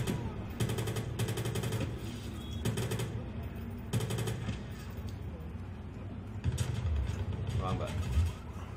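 Bursts of rapid automatic gunfire in Watch Dogs, several loud fusillades spaced a second or two apart, with engine rumble and a voice talking underneath.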